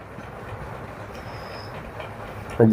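Low, steady rumble of the Araku Valley train running along the rails through winding hill track, with a sharper clatter right at the end.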